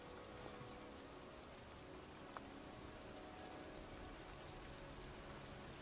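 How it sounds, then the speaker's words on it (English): Steady, faint rainfall hisses evenly in a graveyard scene of the video game Heavy Rain, a soft continuous patter with no voices over it. "It's cold. It's raining."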